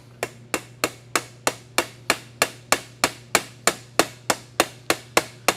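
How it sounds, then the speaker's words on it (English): A hammer strikes a mandrel through a pop rivet in sheet metal, about seventeen sharp, evenly spaced blows in a fast steady rhythm, close and loud, over a low steady hum. "we're going to drive that mandrel right through the pop rivet"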